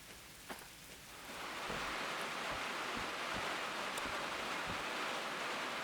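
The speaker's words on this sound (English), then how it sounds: "How is it raining indoors?" Rain in the Derail Valley train game swells in after a second into a steady, broadband hiss of falling drops, with scattered sharper patters on a surface, fairly quiet and continuous with no voices.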